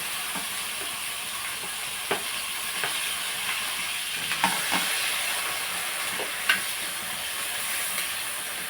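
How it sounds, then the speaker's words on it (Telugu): Ginger garlic paste frying in oil with a steady, even sizzle and hiss, broken by a handful of soft clicks and scrapes from stirring. "కొంచెం ఆయిల్ వేసుకుని అల్లం వెల్లుల్లి పేస్ట్ ఇవన్నీ వేసేస్తున్నాను"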